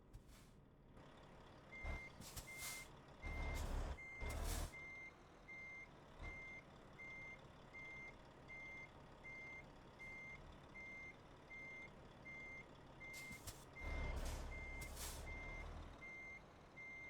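Truck reversing beeps in the Euro Truck Simulator 2 video game, a steady evenly spaced high beep running throughout over low engine rumble, with louder bursts of engine and air-brake noise near the start and end.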